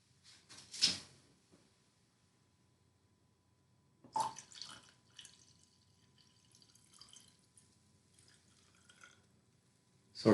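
Red wine is poured from a bottle into a glass in short separate glugs and trickles with quiet gaps between them. The pouring is close and faint, with no talk.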